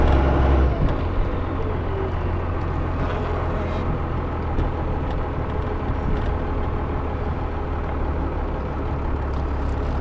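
A 1997 Dodge Ram 3500 Club Cab dually with a big diesel engine idling steadily, a continuous low rumble heard close and alone, with a brief louder burst at the very start.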